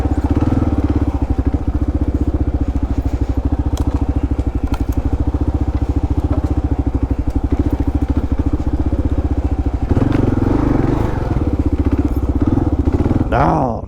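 A Kawasaki KLR650 motorcycle rides off-road, bashing through downed trees near Broaddus, Texas; its engine thumps steadily and loudly up close, with a faint rattle toward the end.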